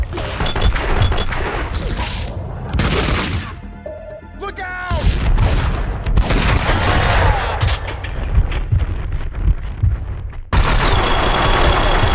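Rapid gunfire from the video game Max Payne 2, bursts of shots and impacts dense through most of the stretch, loud and close, with a brief quieter lull midway and game music or effects mixed in.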